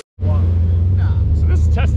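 A turbocharged Ford Fairmont engine gives a loud, close, deep rumbling exhaust burst that cuts in abruptly and holds steady for about two seconds.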